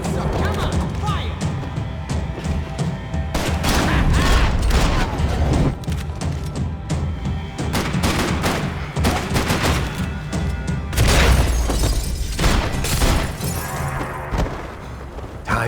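Gunfire in the video game Max Payne 3: dense bursts of shots, impacts and shattering glass crowd a chaotic firefight, with game voices shouting over the loud, continuous action.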